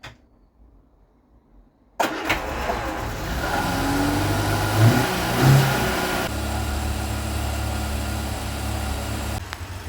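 A 1975 Vauxhall Viva HC barn-find engine cranks and catches after a quiet start, then settles into a steady, loud running burble with an unsettled exhaust, alone with no talk.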